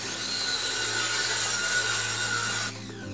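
An airsoft gearbox shell being cut down with a saw or power tool, a steady loud grinding rasp that runs continuously for almost three seconds before cutting off abruptly.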